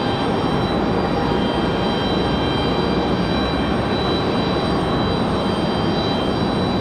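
An Air Canada airliner on the ground at Raleigh-Durham airport gives off a steady, loud jet-engine roar with a thin whine layered on top, holding even throughout without any break.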